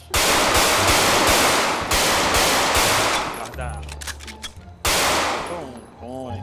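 Rapid automatic gunfire from a GTA 5 roleplay shooting-range training session, loud and close, in long sustained bursts with brief gaps, a few ringing single shots and a short spoken word near the end.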